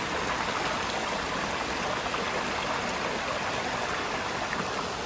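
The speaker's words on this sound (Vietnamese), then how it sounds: "Ở đây có suối nè, đẹp chưa." A mountain stream on the Bảo Lộc pass runs low in the dry season, giving a continuous, close, even rush and babble of flowing water with no voices.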